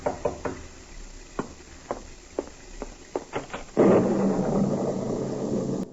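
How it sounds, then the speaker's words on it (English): Several sharp knocks on a door sound one after another in a 1940s radio drama scene, spaced irregularly and close, with a few quicker raps before a louder burst of room noise takes over. "you're startled by a knock on the door"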